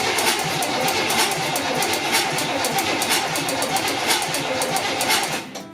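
A rebuilt 350 engine in a tow rig cranks over on its first start with spark plugs installed, giving a fast, even train of loud rhythmic compression pulses that run steadily and cut off just before the end.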